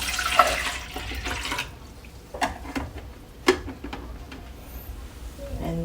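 Water poured by hand into the tank of a Nescafé Dolce Gusto Piccolo XS capsule coffee machine, a short splashing pour at the start, then quieter handling clatter and a few small knocks close by.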